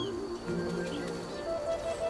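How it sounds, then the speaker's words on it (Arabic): Nuthatch chicks call in a summer mountain forest, with repeated soft chirps and tonal calls scattered over low background ambience, moderately near, with no talk. "يجب أن يسرع طائر الصهيوج مع ارتفاع صوت فراخه."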